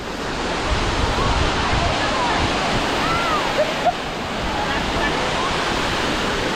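Dunn's River Falls in Jamaica, a cascading waterfall climbed by visitors, gives a steady, loud broadband rush of falling water that fills the scene from start to finish, with faint voices briefly audible beneath the roar.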